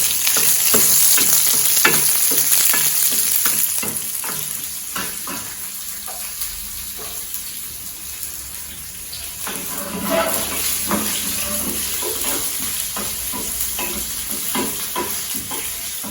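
Asafoetida frying with shallots and garlic in a pan for vallarai greens chutney, a continuous hissing sizzle broken by frequent stirring scrapes, loud and close, no talk.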